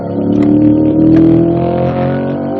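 Chevrolet C8 Corvette driven on a race track at a performance driving school, its engine droning loud and close with a steady, slightly rising tone, heard alone without talk.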